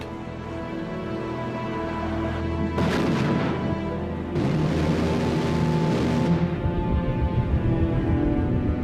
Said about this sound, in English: She fires an unarmed missile, a supersonic weapon codenamed Shipwreck.